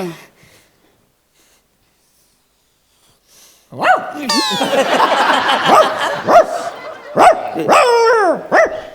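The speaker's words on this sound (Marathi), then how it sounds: "सर तो कुत्रा आहे." After a few near-silent seconds, a dog breaks into loud, close barking: a rapid run of repeated barks and yelps with whining tones mixed in, continuing to the end.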